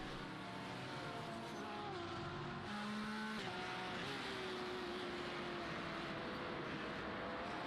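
Race cars in a sim racing game circling the Nurburgring, a pack of several cars droning together with overlapping, shifting engine tones. The sound is steady and continuous, with no talk.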